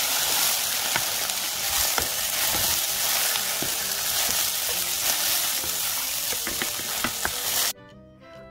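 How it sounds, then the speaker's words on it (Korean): King oyster mushrooms fry in a little cooking oil in a hot pan over high heat, with a loud, steady sizzle and occasional crackles and stirring scrapes. The sizzle cuts off abruptly near the end. "열오른 팬에 식용유는 조금만 두르고 버섯 올려서 앞뒤로 노릇하게 구워줍니다"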